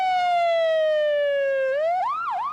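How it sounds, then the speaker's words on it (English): An ambulance siren wails loud and close, a long falling tone that bends into quick up-and-down yelps near the end, with no voices. "Streams of ambulances came to carry away the dead and the injured."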